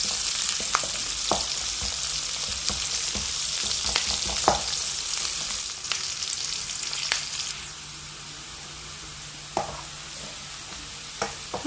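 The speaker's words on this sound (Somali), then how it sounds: "waxaan sugeynaa basasha inta nooga shiilmi doonto" Chopped onions fry in hot oil for a pasta dish, giving a steady, dense crackling sizzle with occasional sharper pops and clicks that quiets partway through.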